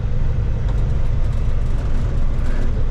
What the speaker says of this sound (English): that noise is just my truck vibrating to bits